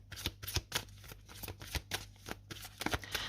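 A deck of cards shuffled to draw a card, with rapid riffling slaps and flutters repeating in quick bursts, close and alone with no talk.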